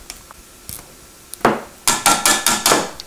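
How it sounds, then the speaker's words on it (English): Small grater tapped firmly against a surface to knock off grated garlic: a few light taps, then a run of four or five sharp, close knocks in quick succession, near and clear with no talking. "Just want to make sure to get all the stuff off the bottom of my little grater there."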